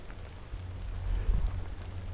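Rain from a thunderstorm falls steadily on surfaces outdoors in a burned elk hunting area, a continuous broadband hiss with low rumbling underneath that swells slightly midway, no voices present.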